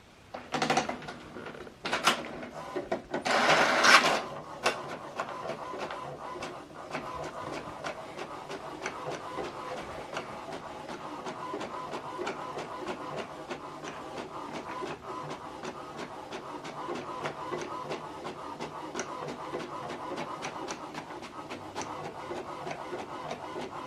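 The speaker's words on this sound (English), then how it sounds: "So this document we printed out, we connected this printer with laptop with USB cable" An HP DeskJet printer connected by USB to a laptop prints a document: a few loud mechanical clunks and paper-feed whirs at the start, then a steady rhythmic ticking of the print carriage moving back and forth, close and alone.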